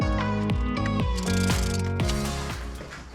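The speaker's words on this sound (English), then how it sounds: "If I tighten these straps down" Ratchet straps cinched down on a 1985 Honda VF1000R frame, a run of close, sharp rhythmic clicks in quick repeated strokes, about five or six pulls, with no talk.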